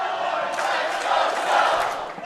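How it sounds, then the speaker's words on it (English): Pro wrestling fans at an anniversary show split into dueling chants for champion and challenger, a loud roaring crowd with rhythmic, overlapping shouts filling the hall without pause. "Split crowd here. The dueling chants for champion and challenger."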